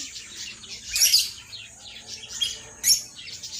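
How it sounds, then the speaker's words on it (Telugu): A pair of birds calls at Kotappakonda Sri Trikoteswara Swami Temple, giving two short, bright chirping bursts about two seconds apart over a soft, steady outdoor background. "రెండు జంట పక్షులు"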